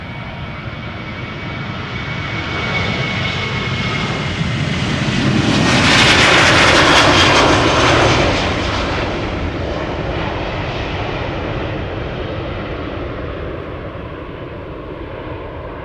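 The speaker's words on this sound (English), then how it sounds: "Another 737 to Gothenburg in Cheaters Lane" A Boeing 737 jet airliner passes overhead, its engine roar swelling to a loud peak midway and then fading slowly, alone with no voices.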